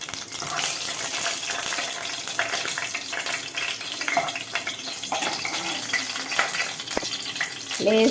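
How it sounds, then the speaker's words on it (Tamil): Fennel and cumin seeds crackle and pop in hot oil with a little water in the pan, a steady close sizzle dotted with sharp spits and snaps throughout. "லேசாக தண்ணி இருந்துருக்கு, அதனால் வெடிக்குது."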